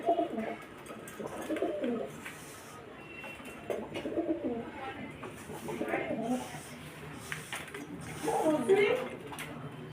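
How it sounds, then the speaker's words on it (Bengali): Pigeons coo repeatedly in soft, low rolling calls, several birds close by, with faint background activity throughout. "আর দেখো কত পায়রা এসেছে"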